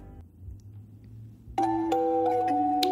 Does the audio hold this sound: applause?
no